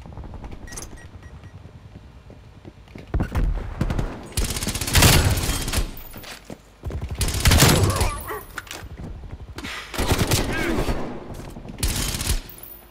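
PPSh-41 submachine gun fire in the video game Call of Duty: Black Ops Cold War, with loud bursts of rapid automatic shots in several separate volleys, a voice speaking between them.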